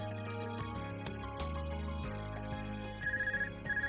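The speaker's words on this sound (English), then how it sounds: "Oh, or we get a phone call." A phone ringtone in Trails of Cold Steel starts late over soft background music, sounding as a quick warbling electronic trill that repeats twice with a short gap.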